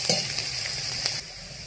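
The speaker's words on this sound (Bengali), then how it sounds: "পেঁয়াজটা হালকা ব্রাউন হবে, হালকা ব্রাউন করে তারপরে দেখাচ্ছি আপনাদের" Onions frying in oil in a pan until light brown, a steady close sizzle with a few crackling pops and a stir-like scrape near the start, no voices.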